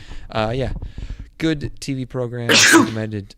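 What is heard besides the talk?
sneeze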